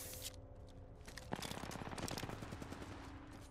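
Rapid automatic gunfire in the video game Apex Legends, sustained bursts of dense repeated shots with a few isolated pops before, loud and continuous over game background sound.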